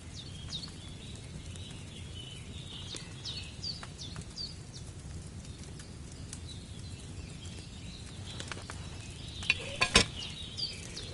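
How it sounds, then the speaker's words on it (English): Potion cauldron in Kingdom Come 2 bubbling and boiling over a flame, a steady low simmering bed with soft pops and a few louder clinks near the end, no talk. "Hear that bubbling? It's boiling."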